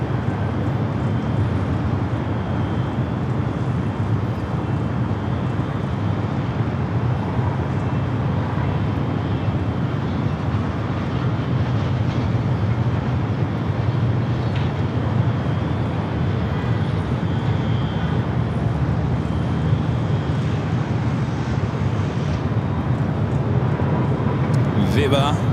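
An aircraft taxis along taxiway Bravo at Los Angeles International Airport toward the northeast corner of the South Complex, giving a steady, broad engine roar throughout while someone talks over it.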